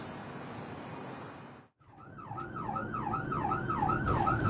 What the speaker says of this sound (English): A Red Cross ambulance is called to a shooting in one of the most gang-infested areas of the city.